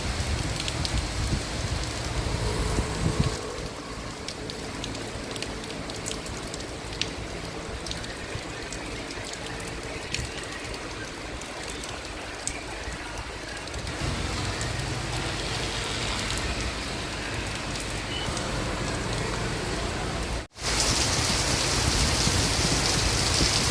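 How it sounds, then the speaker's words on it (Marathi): Heavy unseasonal rain in Sawantwadi pours steadily for a long stretch, a dense continuous roar of drops on surfaces, with a brief dropout near the end. "अचानक आलेला धो धो पाऊस बराच काळ पडल्याने वातावरणात थंडावा निर्माण झाला होता"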